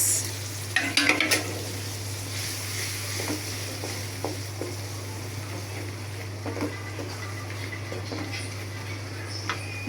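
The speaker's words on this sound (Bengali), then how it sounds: "মশলাটা কষাই আমি যদি মশলাটা কষানো হয়ে গেছে" Spice paste with turmeric, chili powder and green chilies sizzles and fries in a pan while a spoon stirs and scrapes it in scattered clacks, under a steady low hum.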